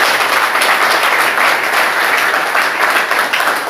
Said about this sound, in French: Applaudissons pour le frère Alphonse.